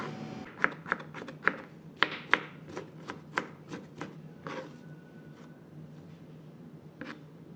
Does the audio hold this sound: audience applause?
no